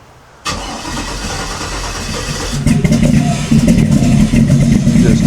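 A car engine cranks and fires after the key is turned during tail light harness repair work, catching after a brief start burst, then settling into a steady idle that rises to a louder, rougher run, close by.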